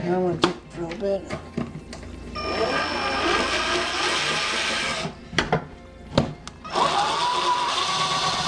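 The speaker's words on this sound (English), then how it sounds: "Now I'm going to take the drill bit." A power drill whirs steadily in bursts, its motor pitch rising and falling, amid clunks and knocks, with a person talking intermittently.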